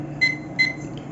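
A kitchen-style timer beeps twice in short, evenly spaced electronic tones over a low background hum, close and moderately loud.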